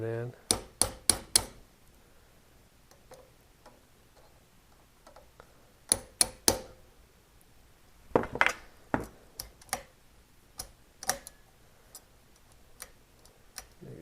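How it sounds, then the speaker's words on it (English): Sharp metallic-wooden taps from a hammer driving a pin into an AK-47 underfolder stock, coming in short bursts of three or four quick blows separated by quieter pauses, close and fairly loud. "Start to hammer it in."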